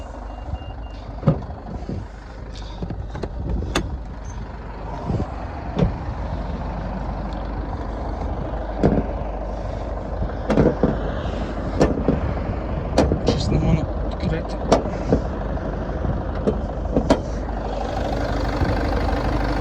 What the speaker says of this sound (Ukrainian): Зараз покажу, покажу вам, як працює двигун